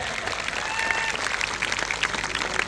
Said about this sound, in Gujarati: જોરદાર તાળીઓનો ગડગડાટ થઈ જાય